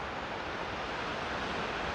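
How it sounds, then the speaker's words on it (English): Steady, broad wind roar on a mountaintop with a rushing, buffeting quality, continuous and fairly loud throughout, with no voices. "It's very windy"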